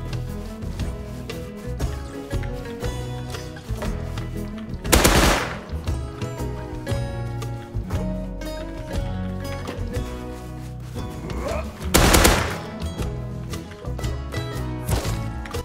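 Custom SMG fire in the survival game Rust comes as rapid, loud automatic bursts over a busy, cluttered background, with two brighter, sharper blasts standing out partway through, and no voices.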